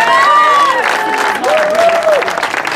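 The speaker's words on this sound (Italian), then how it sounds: "sono degli applausi di parte" Applause and cheering from a crowd at an award ceremony for a slalom race in Amendolara, steady and fairly loud throughout, with whoops and shouted voices rising above the clapping.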